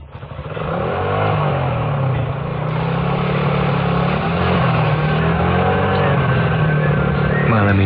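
Motorcycle taxi (ojek) engine running steadily as a radio-drama sound effect, a loud continuous low drone with slight revving swells and a brief rev near the end, alone without talk.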